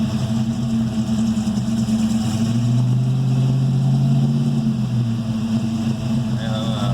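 A Fox-body Ford Mustang's intercooled 5.0L engine with a Whipple supercharger runs with a steady, loud, low drone throughout. A deeper tone swells through the middle before easing back.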